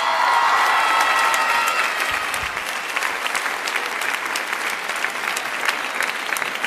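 Loud, sustained applause from a live audience greeting a guest called onto the stage, a dense steady clatter of many hands that eases slightly after the first couple of seconds, with faint crowd murmur beneath.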